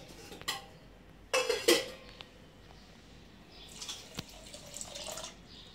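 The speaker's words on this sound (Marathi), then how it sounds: "हे पाणी टाकतोय." Water poured into a cooking pan while making mawa gulab jamun syrup with sugar, brief splashing bursts with clinks of metal utensils and a few drips, close by and fairly quiet.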